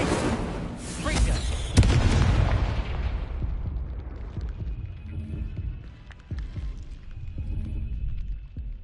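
A Confringo damage spell explodes in a Harry Potter-style video game, a loud booming blast that rolls and rumbles off over several seconds, followed by quieter game effects.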